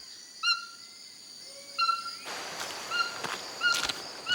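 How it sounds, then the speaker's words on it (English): Bird calls sound in a South American forest, attributed to a toucan: short whistled notes repeated at intervals, then a few sharper bursts with faint background chirps. Moderately close, with no speech. "The toucan wakes us with the message that it's time to rack up the expedition."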